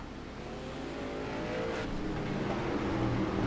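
Street stock race cars circle a track under caution, engines droning steadily at moderate volume as the pack rolls along, with a gradual swell in loudness and no voices.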